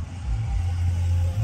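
A car approaches from behind and passes along a lane near Tawawa Park in Sidney, Ohio, a steady close engine drone with low rumble that swells slightly as it goes by.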